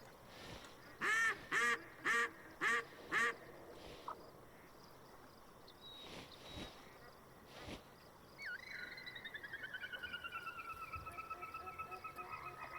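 A duck caller in the hunting game Way of the Hunter sounds a burst of five loud, evenly spaced quacks, followed by a rapid chattering series of calls over a quiet outdoor ambience.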